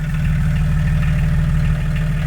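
Exhaust of a VW LT35E van with a 2.4 six-cylinder diesel idling, a loud, close, steady low burble with an even rapid pulse and no talking.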